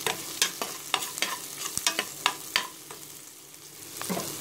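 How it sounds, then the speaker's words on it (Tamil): Ingredients sauté in a pan over a medium flame for an Andhra chicken kulambu: a steady frying sizzle with rhythmic scraping stir strokes, close up and fairly loud, with no talking. "மீடியம் ஃப்ளேமில் வச்சுட்டு நீங்கள் வதக்கணும்."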